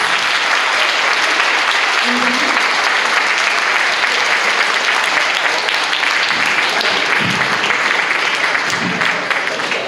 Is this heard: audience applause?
yes